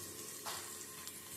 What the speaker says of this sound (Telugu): ఇదిగోండి తెల్లగడ్డ వేసేస్తున్నాను